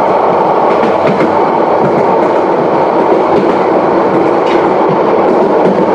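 The Subarna Express, a nonstop train from Chattogram to Dhaka, runs loudly on the rails, a close, continuous rumble with rhythmic clickety-clack of wheels over joints and no pauses.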